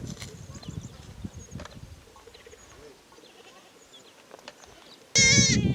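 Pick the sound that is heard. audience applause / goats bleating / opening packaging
goats bleating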